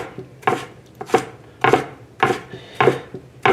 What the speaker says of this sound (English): So we're gonna cut the eggplant into little strip.